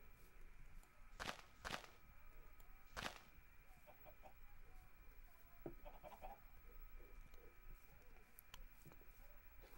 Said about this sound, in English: I keep hearing a chicken